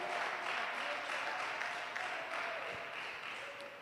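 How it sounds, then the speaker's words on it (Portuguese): Congregation clapping for Jesus during a church service, a dense, even round of applause that slowly fades, with no voices. "Então, uma salva de palmas, dá um glória para Jesus, bem alegre."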